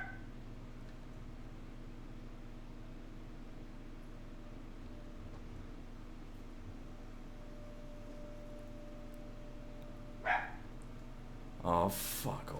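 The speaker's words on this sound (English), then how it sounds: "Sorry, my dog's barking" A pet dog barks in the background of a home, two muffled bursts near the end of a long stretch of steady low electrical hum.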